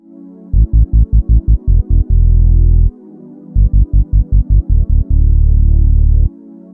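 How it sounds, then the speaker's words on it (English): A deep sub bass preset on a Roland MC-101 groovebox plays a loud phrase of short staccato notes followed by a long held note. The same pattern repeats after a brief pause. "realistically I only need a subby type bass sound"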